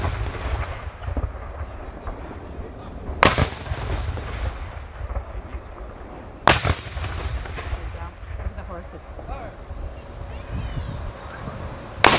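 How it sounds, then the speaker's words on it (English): A Civil War reenactment artillery battery fires its cannons one piece at a time at Corinth, Mississippi, with two loud booming reports, each followed by a long rolling echo over outdoor crowd murmur. "The entire battery firing by piece from right to left."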